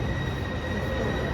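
A metro train at a Bangalore metro station gives off a steady, fairly loud rumble with faint high whining tones, constant throughout and with no voices.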